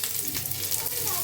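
Spices crackle and sizzle loudly in a hot pan while tempering for dal, a dense continuous frying hiss with small pops throughout.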